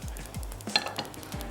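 Onions with green chillies and cashews being stirred in a pan on the stove, with a few light metallic scrapes and clinks of a utensil against the pan over a faint background, no talking.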